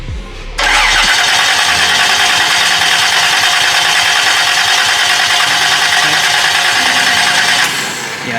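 A race-shop car engine cranks briefly, then fires and catches, settling into a loud, steady high-revving run that holds for several seconds before easing slightly near the end.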